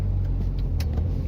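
A Volkswagen Lupo 1.0 city car driving, with a steady low engine rumble and road noise from inside the cabin and no pauses.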